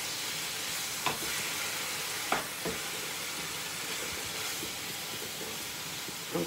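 Taco filling cooks in a pan with a steady, close sizzle, broken by a few sharp clacks of stirring.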